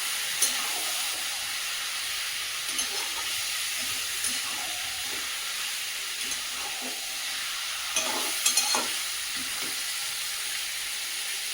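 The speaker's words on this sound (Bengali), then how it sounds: "মাংসটা ভালো করে কষিয়ে নেবো কিছুক্ষণ" Rooster chicken meat fries in spices and is stirred in a pan, a steady close hiss and sizzle broken by occasional scraping stirs and pops, with no talking.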